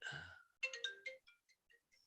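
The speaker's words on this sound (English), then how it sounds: "I got a phone call." A phone ringtone chimes briefly, a short melodic electronic tone that starts, pauses and trails off into fading beeps, fairly faint and heard alone.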